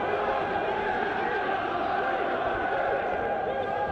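A rugby league crowd at a York City Knights Challenge Cup match makes a steady, distant-sounding roar of cheering and chatter that fills the stadium without a break.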